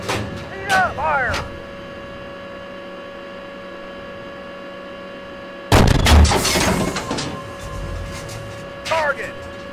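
A tank main gun fires a HEAT round in the Steel Beasts Pro PE simulator, a sudden loud boom with a rumbling tail around the middle, while a voice speaks orders over steady engine hum.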